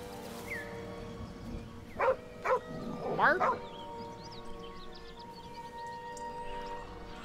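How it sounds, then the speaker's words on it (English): A dog in the video game Baldur's Gate 3 gives a few short barks and yips at moderate distance, spaced over a couple of seconds amid steady game ambience and music. "It's a doggy."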